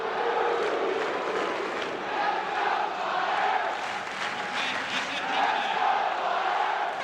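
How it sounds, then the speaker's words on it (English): A dense hockey crowd roars and cheers inside a Philadelphia arena in 1987, a loud, steady wall of voices that swells and surges without letting up. "They're cheering with a vengeance."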